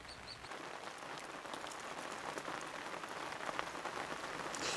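Rain falls steadily at a freshwater crucian carp fishing spot, a dense close patter of drops on surfaces that holds constant throughout.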